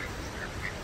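Ducks quack in brief, faint calls against a steady, dense background of outdoor noise, with a few short honking notes standing out only slightly above the wash.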